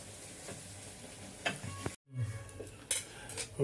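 Puris fry in boiling oil with a low, steady sizzle, broken by scraping and clinking from a utensil and a brief silent gap midway.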